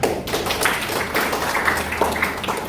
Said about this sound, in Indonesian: Baik, oke, tepuk tangan.